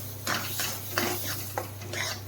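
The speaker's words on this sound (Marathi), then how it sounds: "आता आपण त्यामध्ये टाकूयात हे गरम दूध आणि पाणी." Hot milk and water poured into roasted semolina in a pan, with repeated spoon scrapes and clinks against metal as it is stirred over a low steady hiss, close up and without talk.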